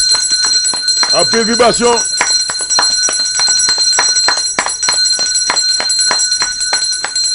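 A bell rings loudly and continuously as a rapid, steady clatter of strikes, while a voice chants briefly over it.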